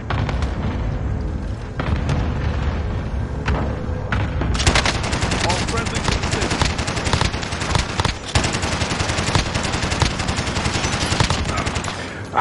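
Rapid automatic gunfire from the Warzone video game, dense bursts of machine-gun shots and booming impacts filling the whole stretch, loud and close, with a player's voice faintly underneath.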